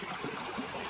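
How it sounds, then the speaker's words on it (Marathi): A small stream of water flows through a paddy field in the Konkan countryside, a soft continuous trickle and gurgle, faint and steady, with no voices. "इकडे एक छोटीशी व्हाळी आहे बघा"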